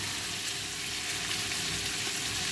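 Salsify sautéing in a pan, a steady close sizzle of frying with faint stirring, continuous and even throughout with no talking.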